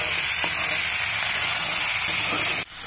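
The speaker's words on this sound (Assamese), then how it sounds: "এয়া বুজি আকৌ ভাজি ললো দেই কুমুৰা আলু" Pumpkin and potato fry in a pan with a loud, continuous hiss of sizzling oil that drops off abruptly near the end, with no talk.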